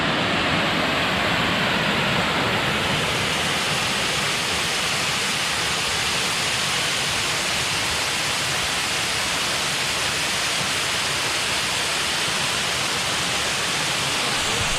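Steady, broad roar of rushing water from a waterfall on the Ricketts Glen Falls trail, loud and unbroken throughout with no voices.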